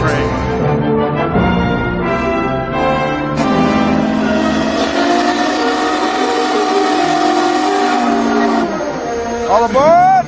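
Union Pacific 844 steam locomotive idling at a crowded station, with a steady rumbling engine drone, a sustained whistle-like harmonic tone and rising squeals near the end, heard under voices of a busy platform crowd.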